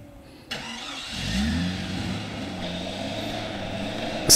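Jeep engine running rough on an off-road trip: it catches after a short starting sound, then holds a rumbling, uneven idle up close, with a faint clatter near the end.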